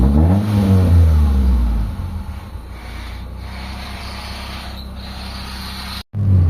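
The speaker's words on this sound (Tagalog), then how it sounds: "test drive namin yung Lancer Pizza na ginawa natin ngayong araw" A Mitsubishi Lancer with a misfiring, low-power engine and check-engine fault hums steadily while cruising on a highway, a loud revving burst at the start settling into a constant drone, then a brief dropout near the end.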